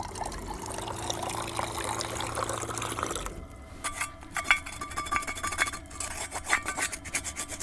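Water gushes from a tap once the pressure pump is switched on at a winter campsite with a rooftop-tent off-road vehicle, a steady rushing stream that starts partway through after rubbing handling noises, close and fairly loud.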